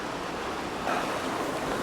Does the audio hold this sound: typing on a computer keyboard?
no